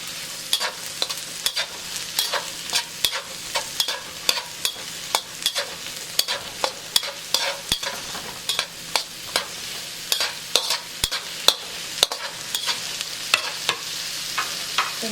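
Ingredients for char kway teow stir-frying in a hot pan, a steady close sizzle broken by frequent sharp scrapes and clacks of the spatula at an irregular, lively rhythm, with no talking.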